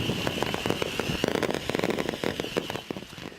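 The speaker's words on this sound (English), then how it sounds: "when authorities destroyed a massive haul of illegal fireworks, it turned out to be quite a spectacular display" A 21-tonne haul of illegal fireworks is detonated at a remote site near Lima, Peru, giving a rapid, continuous crackle of many small bursts with louder pops scattered through it.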